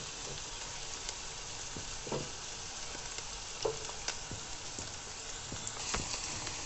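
Onion and ginger-garlic paste fry in a pan for a sesame-seed chicken dish, a steady, dense sizzle with occasional pops and stirring clicks, close and continuous.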